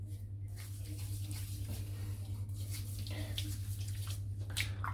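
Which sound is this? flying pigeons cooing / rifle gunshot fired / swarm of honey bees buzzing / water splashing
water splashing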